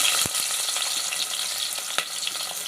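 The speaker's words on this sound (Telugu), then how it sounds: "మసాలాలు వేయకుండా ఇలా ఆయిల్లో వేసుకోవాలండి అవి కొంచెం వేగిన తర్వాత ఉల్లిపాయలు వేసేయాలండి" Whole spices, including cinnamon bark, sizzle in hot oil as a steady broad hiss, with a couple of sharp crackles or pops standing out above it.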